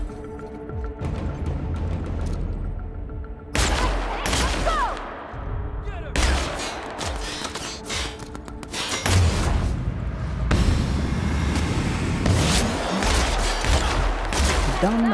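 Gunfire in the video game The Outer Worlds: several loud bursts of rapid shots separated by short pauses, the later bursts longer and denser, with brief voice sounds between them.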